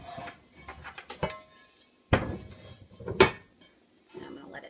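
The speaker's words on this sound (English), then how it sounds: "now what I'm going to do is put a cover on it" A lid clanks onto a pot of simmering homemade barbecue sauce, with two sharp metallic knocks close by, set among lighter kitchen clatter and brief shuffling.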